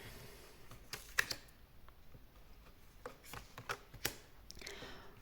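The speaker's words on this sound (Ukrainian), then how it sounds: "А я дістаю карти." Quiet, close shuffling and soft snapping of cards being taken out and handled, with scattered crisp flicks and slides separated by brief pauses.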